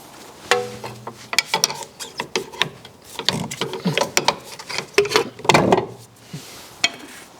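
Wrench clicking and ratcheting on the front anti-roll bar link nut of a VW Transporter T4, a close run of sharp metallic ticks and knocks in uneven bursts with no talking.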